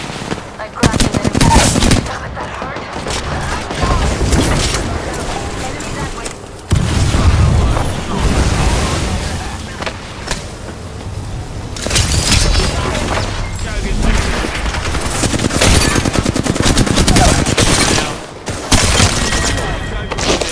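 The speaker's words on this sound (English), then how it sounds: "They're shooting at me." Dense gunfire in a video game match: continuous automatic bursts, heavy booms and crashes that pause only briefly, with voices talking over the shooting.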